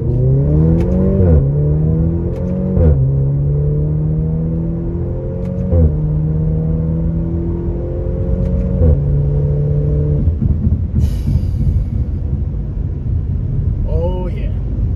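Turbocharged car accelerating hard and revving, its engine note climbing and dropping through several pulls, loud and close, ending in a rougher rumble as the revs fall.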